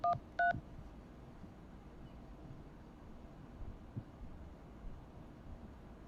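A phone keypad sounds two short DTMF beeps in quick succession as a number is keyed in, followed by several seconds of faint hiss and low background noise.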